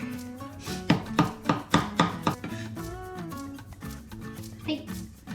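A knife mincing garlic on a board knocks out a quick run of sharp, close taps, then slows to a few scattered strikes over tonal background music.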